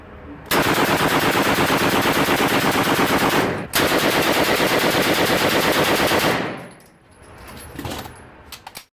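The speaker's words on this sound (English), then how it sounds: "One of the most iconic and famous World War II weapons was the MP-40 machine pistol." A World War II MP-40 machine pistol firing long sustained automatic bursts, loud and close, one burst briefly broken before continuing, then stopping into fainter clattering and handling noise.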